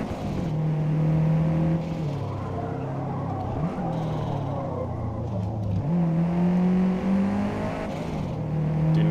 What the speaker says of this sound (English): Audio is fantastic. The skittering tires.